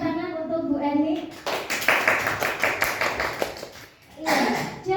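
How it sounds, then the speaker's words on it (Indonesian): Participants in a teacher training session briefly clap for a colleague, a short burst of hand claps of a few seconds sandwiched between bits of talking at the start and end. "Bapak Ibu yang lain boleh memberi tepuk tangan untuk Bu Eni"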